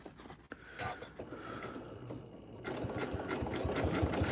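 A Janome M17 sewing machine runs and stitches with a steady mechanical whir and rhythmic knocking. It pauses briefly early on, then builds back to a continuous, close hum.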